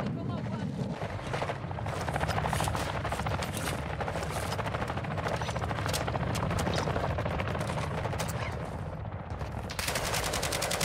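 An automated turret firing in Call of Duty Modern Warfare II DMZ, sustained rapid bursts of gunshots that run almost without a break and sound close and loud, with someone speaking over them.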